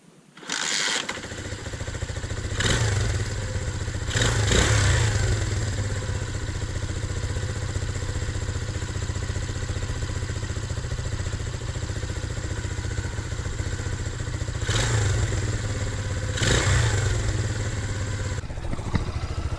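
A Zongshen motorcycle engine fitted with a new carburetor fires up and settles into a steady, close idle, with a few brief revs surging over the continuous low drone.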